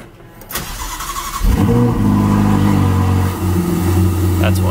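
A Ferrari 488 engine starts with a sharp crank and catches, then settles into a loud, throaty idle with rising revs close by; a voice speaks near the start.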